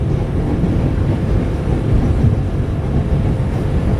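A passenger train hauled by a locomotive in vintage livery, heard from inside a carriage as a steady low rumble of wheels and rolling stock with constant wind-like noise, running smoothly without voices.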